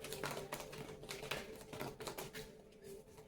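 Rapid, dense flicking and riffling of tarot cards being shuffled, close up and continuous, with quick papery ticks in a busy rhythm.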